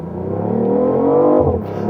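A BMW i8 revs up for a launch start, its engine note rising steadily and loudly to about 2000 rpm before easing off briefly, heard close and with no talking.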